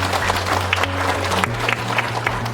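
Audience applause at a gathering about women's role in a waste-aware Jakarta, a steady wash of clapping with a low hum underneath and a few louder claps scattered through.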